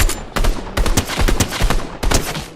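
Rapid gunfire bursts in Fortnite during a warmup session, loud and close, with short pauses between volleys.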